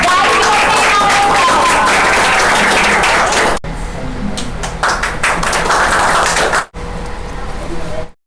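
An audience at an office monthly rewards and recognition ceremony bursts into loud, dense applause that runs for several seconds, then eases into lighter scattered clapping before cutting off.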